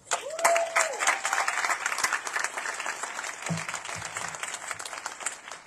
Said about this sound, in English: can we just give her a round of applause once again?